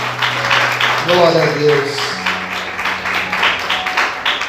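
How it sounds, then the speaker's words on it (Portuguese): A church congregation claps in a steady rhythm during a service, louder on the pastor's urging, while someone speaks over it and sings a drawn-out phrase with sustained tones. "Mais forte as palmas"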